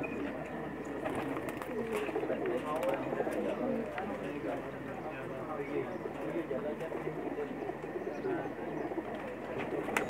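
Soft, continuous cooing of many pigeons close by, a dense murmuring flock sound with occasional flutters and a voice speaking over it.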